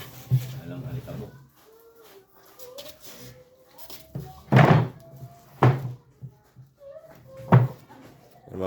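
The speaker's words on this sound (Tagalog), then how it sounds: "Pinto ng cabinet." A cabinet door in a home opens and shuts with three sharp wooden thunks, spaced about a second or two apart, while a person talks nearby.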